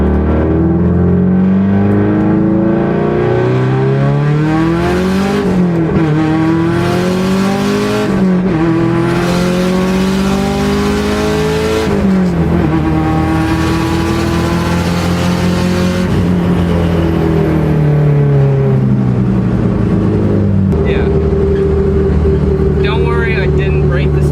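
Subaru GC8 race car with an STI engine swap and a heavy stage 5 clutch, its engine revving up and down through gears from inside the cabin, loud and continuous with rising and falling pitch sweeps.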